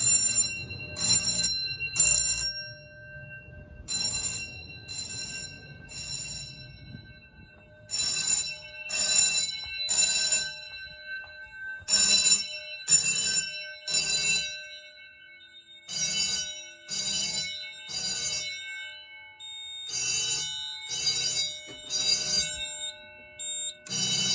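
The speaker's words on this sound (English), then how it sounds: "the buzzer's a little bit higher pitched on this model for some reason." Rapid bursts of a shrill electronic alarm buzzer during a basement alarm system test ring in clustered groups of short beeps with pauses between, repeating over and over.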